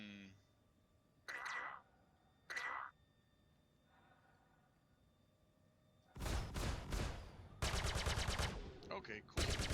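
Ship turret guns fire in the space game Star Citizen aboard an Anvil Gladiator, a few short isolated blasts followed by long loud rapid-fire bursts, with brief pauses between volleys.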